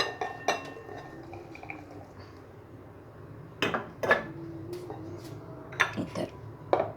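Fruit pieces of grapes, banana and mango are tipped into a serving bowl for fruit custard, making a few sharp clinks and knocks against the dish, with softer soft handling sounds between them, close by and fairly quiet.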